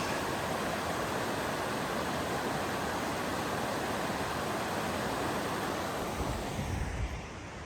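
Broad, steady rush of Newton Creek's flowing water in the Mount Hood Wilderness, heard close and continuous for several seconds before easing slightly at the end, with no voices.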